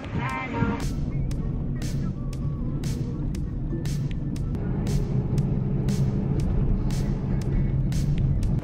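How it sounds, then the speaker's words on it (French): Vehicles idling and getting ready before dawn on the Salar de Uyuni salt flat: a steady low engine rumble with scattered sharp clicks and clanks over it. "les voitures sont en train de se préparer pour partir dans le désert"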